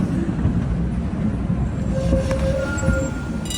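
An electric tram passes through Dnipro with a steady rumble of wheels on rails and faint squealing tones, close and fairly loud throughout.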